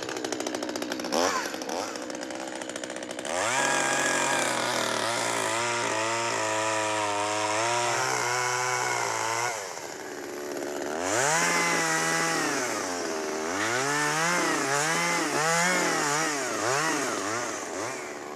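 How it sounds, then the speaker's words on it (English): A chainsaw cuts into rotted wood on a Tasmanian farm, its engine loud and close as it idles, then bogs and revs in two long cutting passes with rising and falling pitch. "we're going to do it with a chainsaw."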